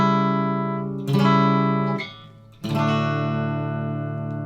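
Sustained keyboard-like chords ring out, a diminished chord left unresolved, struck twice more with rich harmonics and a brief dip between, no talk.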